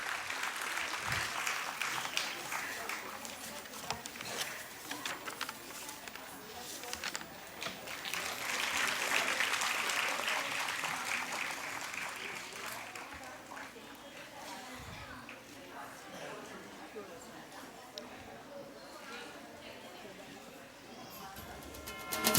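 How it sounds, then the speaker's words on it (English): Audience applause at a school annual day festival during a chief guest's felicitation, a broad wash of clapping that swells midway and then thins, with crowd murmur and voices underneath. "Clap should not stop."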